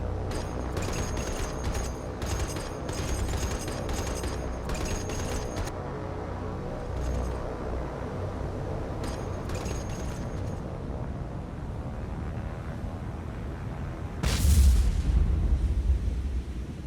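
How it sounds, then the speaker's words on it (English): Aircraft cannon fire during a Spitfire and Messerschmitt dogfight in War on the Sea, heard as loud, continuous rattling bursts and booming blasts, with a heavy low thump near the end. "Cannons blaring away."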